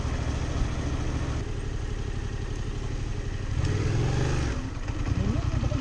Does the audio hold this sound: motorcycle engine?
yes